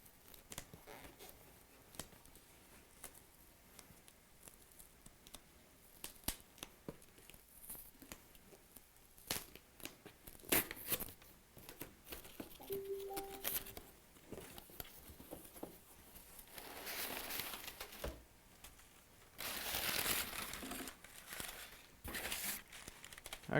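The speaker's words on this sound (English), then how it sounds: "To open this package, because I forgot to put something in it." A package being opened: faint crinkling and rustling of packaging with scattered small taps and tearing, close and quiet, growing busier toward the end.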